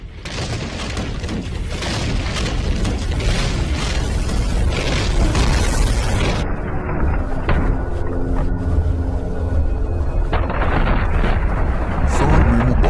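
A bomb explosion, a loud, sustained roar of blast and debris that fills the scene, changing character partway with sharp crackles and a lingering rumble.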